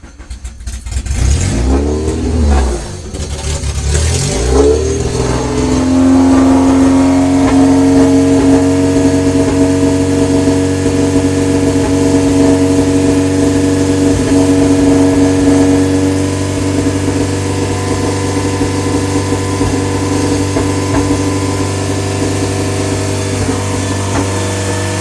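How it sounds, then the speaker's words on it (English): A JDM Honda H22 engine swapped into a Honda Civic starts up for the first time: a loud cranking catch with a couple of revs, then a steady, rough, close idle that settles and holds. "First startup in H22."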